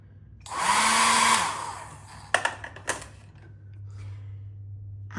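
A hotel bathroom hairdryer blows briefly, a short rising whoosh lasting under a second, followed by scattered clicks and knocks and a low steady hum.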